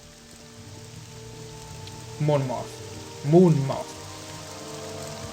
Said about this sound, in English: And we got rain.